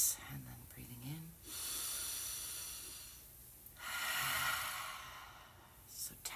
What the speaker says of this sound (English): Breathing in on the way up and exhaling on the way down.